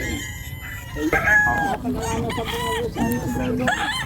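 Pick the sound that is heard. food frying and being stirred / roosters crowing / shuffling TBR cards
roosters crowing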